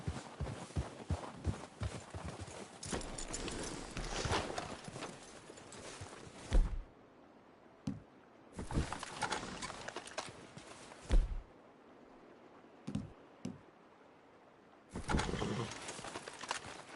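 Horse hooves clip-clop in Red Dead Redemption 2, a quick run of close thudding steps that gives way to scattered, separated footfalls and quieter gaps.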